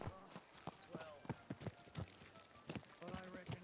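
Horse hooves clip-clop in Kingdom Come Deliverance 2, with a quick, uneven run of close hoof strikes throughout and voices talking over them.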